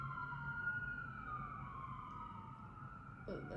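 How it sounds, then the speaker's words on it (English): An emergency vehicle siren wails outside at a distance, a faint, slowly sweeping tone drifting down in pitch over a low traffic rumble, with a brief noise near the end. "let the sirens go."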